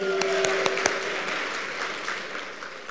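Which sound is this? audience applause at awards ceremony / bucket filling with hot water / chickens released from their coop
audience applause at awards ceremony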